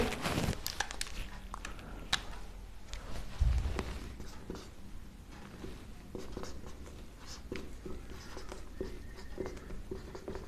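Chalk or marker scratching and tapping on a board during a maths lesson, a steady run of short strokes and taps over about ten seconds, close, with faint room noise and no talk.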